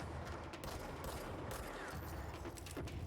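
Rapid gunfire in the video game Control, a dense burst of shots and crackling impacts that stays fairly faint and continuous for a few seconds.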